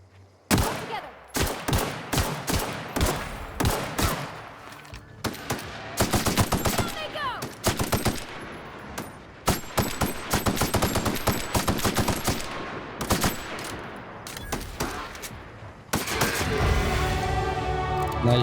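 Rapid gunfire in the video game The Outer Worlds rings out as repeated loud shots in fast bursts and clusters, with brief pauses between volleys and steady action noise underneath.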